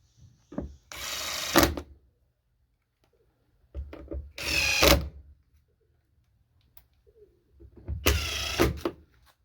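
Power drill driving screws back into an interior storage panel on a 3rd gen Toyota 4Runner, with three separate short whirring bursts spaced a few seconds apart, close and fairly loud, with quiet pauses between them.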